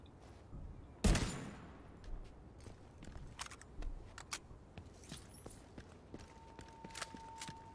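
A single sharp gunshot from a gun in The Division 2, followed by scattered lighter clicks and taps, with quiet background ambience and no talking.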